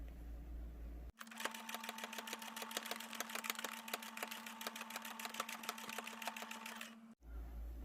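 Sewing machine stitching the crown and brim of a sun hat together: a fast, even run of mechanical stitching clicks over a steady motor hum for about six seconds, with near-silence before and after.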